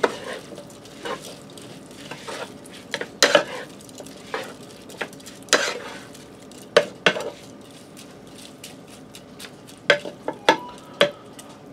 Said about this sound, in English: now I have roughly 4 cups of Roma tomatoes that I diced up. We're going to throw those in. And I'm going to go ahead and stir them in.